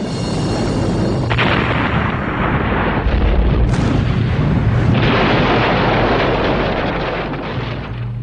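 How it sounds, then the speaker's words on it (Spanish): A high-pressure steam engine boiler explodes at Greenwich, London: one huge, sustained roar and rumble that surges and then slowly fades, close and overwhelming, with no talk. "una máquina a presión elevada que se usaba en Greenwich, Londres, explota"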